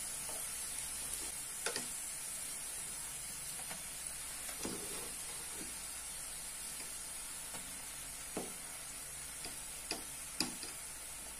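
Onions sauté gently in a pan over a low flame for a Kerala-style mackerel curry, giving a faint, soft sizzle broken by scattered small ticks and pops.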